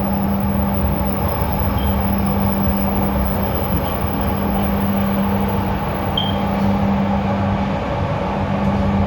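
Steady rumbling rail noise from the Jakarta-Bandung high-speed train passing, with a constant low hum and faint high whine, continuous and even throughout without voices.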